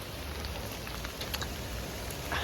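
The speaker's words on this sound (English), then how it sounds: "this is just a lot of rain" Heavy rain pours down continuously in a steady wash of hiss and patter, with a few brighter drops standing out and a faint low rumble beneath, no voices present.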